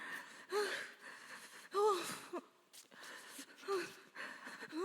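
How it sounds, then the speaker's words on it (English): A woman breathes heavily and cries during prayer, with intermittent gasping, wheezing sobs and breaths rising and fading in uneven bursts, fairly quiet. "listen to how she's breathing and crying as prayer continues in her life"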